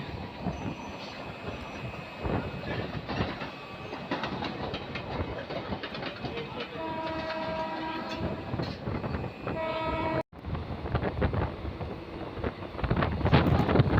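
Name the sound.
passing local commuter train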